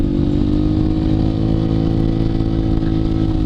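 A Vespa scooter engine drones steadily at a constant pace while riding, loud and close, with wind and road rumble mixed in.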